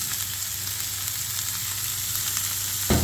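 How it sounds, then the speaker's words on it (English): Red peppers, green peppers and carrots sautéing together in a pan, giving a steady, dense, close sizzle with a sharp clank right at the end. "Saute all together for 3 to 4 minutes"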